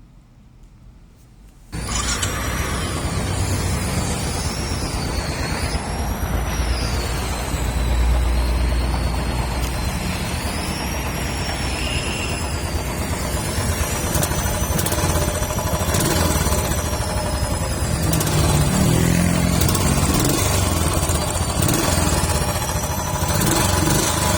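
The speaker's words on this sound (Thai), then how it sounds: "เดี๋ยวเราไปฟังเสียงเครื่องยนต์พร้อมๆกันเลยครับ" A 2019 Bullet Trails motorcycle engine starts after a quiet moment and then runs at a steady, close, loud idle that holds for the rest of the clip, with thin high-pitched warbling tones above it.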